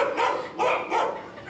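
Dogs barking at a roadside stop in Peru, three loud bursts of barking in quick succession, fairly close, with no talk over them.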